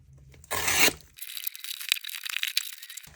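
A package of ordered comics is torn open with one loud ripping burst, followed by softer crinkling and rustling of packing material nearby.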